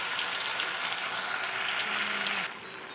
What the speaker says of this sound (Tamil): நான் எண்ணெயில் பொரிக்கிறேன்.